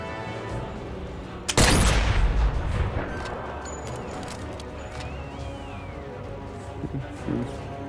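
A single loud sniper rifle shot from the Sniper Elite VR video game cracks out near the start, followed by a long booming decay and quieter mechanical handling sounds, with no talking.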